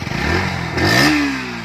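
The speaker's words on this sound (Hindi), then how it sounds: "तो फ्यूल इंजेक्टेड के साथ ये इंजन आता है, एक बार इसका आवाज सुनाते हैं" A 2023 Bajaj Pulsar NS 160 with a fuel-injected engine idles close by, then revs up sharply with a rising, buzzy engine note that holds high before easing back slightly.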